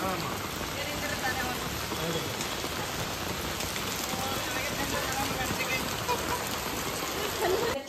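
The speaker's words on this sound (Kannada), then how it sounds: "ಫುಲ್ ಜೋಸ್ತ ಮಳೆ ಹೊಂಟಿದೆ." Heavy rain pours down steadily and close by, a dense continuous patter that stays loud the whole time.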